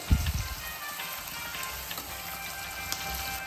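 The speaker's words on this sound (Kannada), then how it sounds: "ಈಗ ಈರುಳ್ಳಿ ಫ್ರೈ ಆಗ್ತಿದೆ." Onions frying in a pan give a soft, continuous sizzle close by, with a louder clatter at the start and light crackles throughout.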